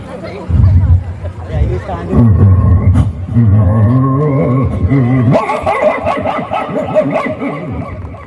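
A mimicry performer imitates a dog, giving a string of barks and yips over a murmur of audience chatter, close and fairly loud.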